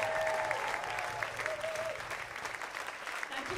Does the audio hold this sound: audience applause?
yes